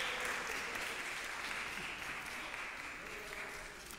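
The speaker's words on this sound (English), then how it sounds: "I think we should give all of the vestry a round of applause and thanks" Quiet, steady applause from a church congregation for the vestry during a Sunday worship service, lasting a few seconds and fading slightly toward the end.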